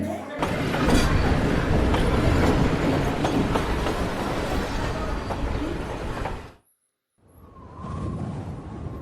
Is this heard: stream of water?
no